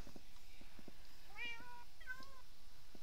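Cats meow in a video game, a few short harmonic mews spaced across a few seconds over a steady low game-ambience bed, moderately close with no talk.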